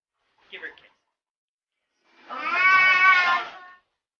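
A cat gives a short, faint chirp and then, after a pause, a long, loud meow close by.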